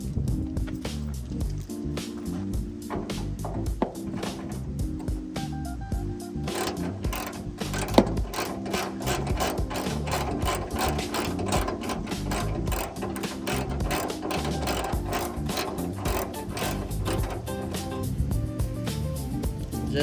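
A ratchet loosens a hood bolt on a Honda Civic, giving rapid rhythmic clicking in long bursts with short pauses between them, close and crisp, with no talk.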